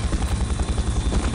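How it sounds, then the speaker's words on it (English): Helicopter in the shooter game SiN: Wages of SiN, a steady low rotor drone with rhythmic thumping, fairly loud and continuous across the short span with no talk. "a helicopter"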